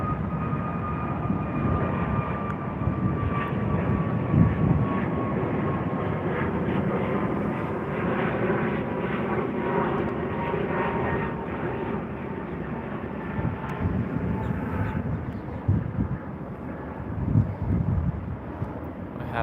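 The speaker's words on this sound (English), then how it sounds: "So this is our 737 MAX." Boeing 737 MAX airliner engines roar steadily at an airport, a constant broad jet rumble with a faint whine holding throughout, heard from a distance at a planespotting spot with no talk.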